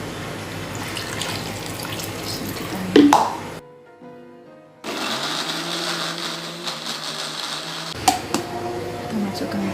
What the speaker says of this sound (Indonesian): Kita berikan air.